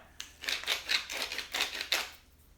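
Garlic and rosemary chopped with a knife on a cutting board, a quick run of about eight crisp close taps in an uneven rhythm, with no voices.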